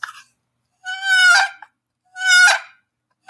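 A person voices two drawn-out, squawky, honking yelps imitating a turkey box call, each separated by a pause, loud and close with no background sound.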